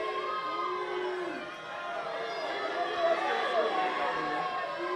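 A wrestling crowd murmurs and jeers in a steady mass of voices at a show, booing wrestler Kurt Robinson, with individual shouts rising above the general roar.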